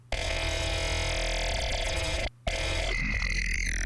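A heavily processed, distorted sound from a spectral mangler effect in Ableton Live, grinding and buzzy, with a brief dropout near the middle before it shifts into a warbling, glitchy tone.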